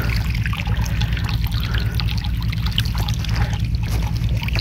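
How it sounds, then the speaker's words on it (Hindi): Irrigation water flows steadily into farm fields, a continuous close trickling and pouring wash over a low rumble, with no talk. "जी आप देख सकते हैं ये पानी जा रहा है खेतों में।"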